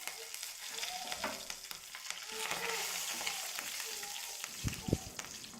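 A handful of curry leaves hits hot oil for a mango kuzhambu, giving a bright crackling sizzle that holds steady with a few stirring clicks and a sharp pop toward the end, close-up and without talking.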